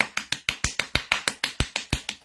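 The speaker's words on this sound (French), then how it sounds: "On applaudit." Sharp, evenly spaced claps or snaps, about fifteen crisp strikes in steady rhythm, close and distinct, each decaying quickly before the next.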